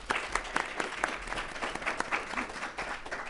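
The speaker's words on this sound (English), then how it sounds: "Let's give a round of applause for all of this year's judges." A ballroom audience at a scholarship ball gives the judges a sustained round of applause, dense overlapping clapping from many hands at moderate distance, steady throughout with no talk over it.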